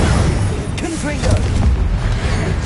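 A Confringo blasting spell explodes in Hogwarts Legacy with a loud, deep boom and rumbling bursts amid combat noise. A voice is heard briefly over it.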